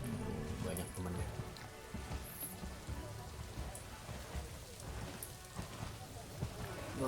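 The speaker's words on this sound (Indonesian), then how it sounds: "hujan" Steady rain falls in the Planet Zoo video game, a dense, even patter with occasional soft rumbles, while a voice talks over it.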